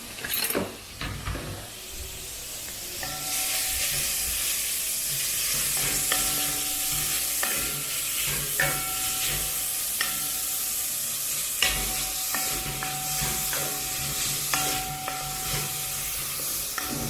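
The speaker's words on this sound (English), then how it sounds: "I'm gonna drop my onion, just white onion and carrot in there and fry it" White onion and carrot fry in a pan with a steady sizzle, broken by repeated scraping strokes of a utensil stirring the vegetables and occasional clinks.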